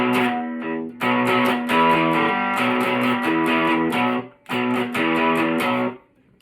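Distorted electric guitar riff, played as power chords in loud, choppy bursts with brief gaps, alone and close.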